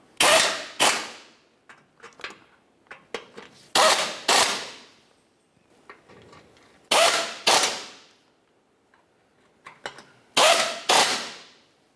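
Radiator mounting bolts on a 2001-2005 Ford Explorer Sport Trac being snugged up with a ratchet tool, sharp metallic clicking bursts in about four clustered groups, close and loud with quiet gaps between.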